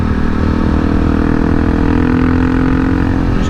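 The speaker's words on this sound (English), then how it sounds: "Just cruising around today in the 2021 KTM 690 Enduro." A 2021 KTM 690 Enduro motorcycle cruising on a street, its engine a loud, steady drone with constant wind rush and no talking.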